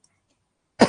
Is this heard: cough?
yes